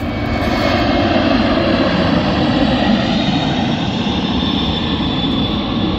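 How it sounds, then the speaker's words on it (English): An airplane passes overhead at a beach, its engine roar loud, broad and steady for the whole stretch with no voices. "Airplane flying."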